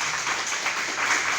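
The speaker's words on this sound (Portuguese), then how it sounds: "Vamos aplaudir o Senhor, que Ele merece?" A Portuguese-speaking evangelical church congregation breaks into applause during a worship service, a thick, continuous clatter of many hands, steady and fairly loud throughout the short burst.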